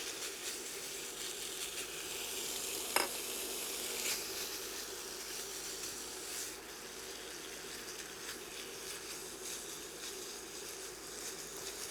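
Strips of beef steak sizzle steadily in a pan over medium heat, a continuous close hiss throughout with one brief clink near the start.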